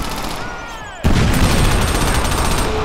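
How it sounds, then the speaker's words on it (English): A sudden loud grenade blast in Crackdown about a second in, followed by a sustained roaring, crackling wash of noise, preceded by a faint whistling tone. "Here, chuck a grenade."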